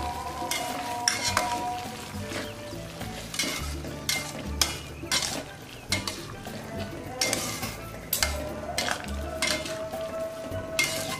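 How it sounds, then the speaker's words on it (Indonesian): Baby corn goes into a pan of stir-fried vegetables for a simple sauté, followed by steady stirring with scrapes and clinks of a utensil against the pan over a soft sizzle, with no talking. "selanjutnya aku masukkan jagung mudanya"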